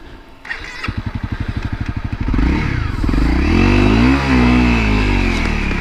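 A dirt bike stuck in sand and whoops is kicked over with a rapid chugging pulse of the engine, then catches and revs up and down loudly, close by.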